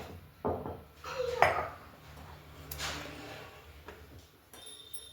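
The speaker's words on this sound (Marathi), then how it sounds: "आता आपण हे खारीक खोबरं थोडं खलबत्त्यात कुटून घेऊ" A few sharp metallic clinks and knocks of a pestle pounding dried dates and coconut in a mortar, scattered irregularly over a quiet indoor background.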